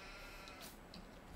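A sheep bleats in a Farming Simulator farmyard, a short, fairly faint call heard once or twice over a steady low game-ambience hum, with no talking.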